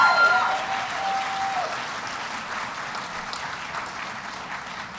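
Audience applause at an awards ceremony: a burst of clapping from a seated crowd, loudest at the start and gradually thinning and fading over several seconds, with no one speaking.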